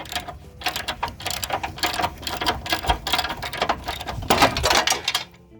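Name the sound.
ratchet with 21mm socket removing F-150 rear bumper bolt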